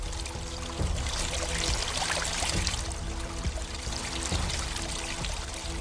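Steady flowing, pouring water fills the background continuously, a dense rushing wash with no voices.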